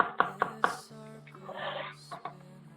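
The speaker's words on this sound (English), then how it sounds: "I'm going to start dicing my onion and my celery" Knife chopping onion, celery and garlic on a board: three sharp cuts in quick succession, then a softer run of slicing, and one more cut near the end, close and moderately loud.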